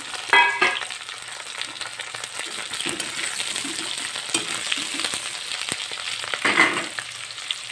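Fish sizzling and spitting in hot oil in a pan, with occasional stirring scrapes and clinks over a steady frying hiss, close and fairly loud without any talk.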